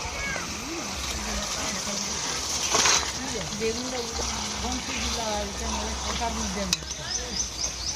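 Chicken meat dropped into hot spiced oil in a pan, a bright splash and sizzle followed by steady frying and stirring, with someone talking over it.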